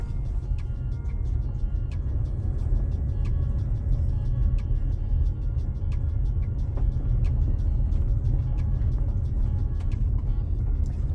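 A Toyota RAV rolls along a bumpy dirt road, heard from inside the cabin as a steady, heavy low road rumble with faint rattles and small ticks from vibration throughout.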